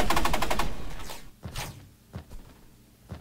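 Rapid automatic gunfire from the video game Energy Assault rattles loudly at first, then gives way to scattered single shots and short bursts with quieter gaps between them.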